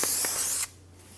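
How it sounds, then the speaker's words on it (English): Brake parts cleaner hisses from an aerosol can onto the outside of a brake rotor on a 2012-2020 Chevrolet Sonic, one steady close burst of spray that stops abruptly, with no talking. "Using a clean rag and some brake parts cleaner, we're going to spray down the outside of the rotor and wipe it down."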